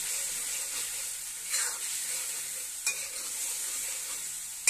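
Turmeric, chili and coriander powders frying on low heat for a spiny gourd curry, a soft continuous sizzle with occasional spoon scrapes against the pan.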